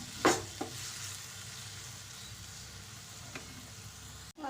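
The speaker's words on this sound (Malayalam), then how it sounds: "തക്കാളിക്ക നല്ലതുപോലെ ഒന്ന് വഴന്ന് വരണം, ഒന്ന് വേവണം." Tomatoes sauté in a pan for a banana curry, a steady soft sizzle with a couple of sharp stirring clicks near the start and a light scrape later, no voices.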